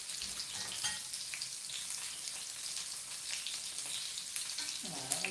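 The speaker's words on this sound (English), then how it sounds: "that was after about a minute of frying" Pork cutlets for tonkatsu fry in hot oil, giving a steady, close, dense sizzle with crackling pops throughout and no talking.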